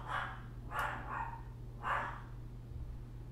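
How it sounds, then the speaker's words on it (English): Dogs barking indoors at a moderate distance, three or four separate barks spaced about a second apart over a low steady hum. "Why are my dogs barking?"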